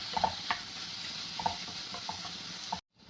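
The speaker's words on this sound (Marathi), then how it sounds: "पनीर भुजी चांगली परतून घ्यायची आहे" Paneer bhurji with spices is sautéed and stirred in a pan. A soft, even sizzle sits under light scraping strokes from the spoon, then cuts off abruptly near the end.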